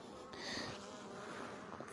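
Honeybees crowd on top of an open hive, a close, steady buzzing hum with a brief louder swell from a bee passing near.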